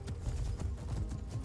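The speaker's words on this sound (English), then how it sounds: "I can just ride my horse" Horse hooves clip-clop in a steady, close rhythm while riding in the Skyrim video game, a continuous trot with no talking.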